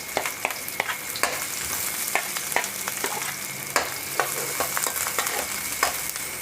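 Sliced onion sizzles steadily in hot oil in a home kitchen, with a grandmother cooking filling for fresh vegetable lumpia; a spatula scrapes and taps the pan in irregular clicks over the constant hiss.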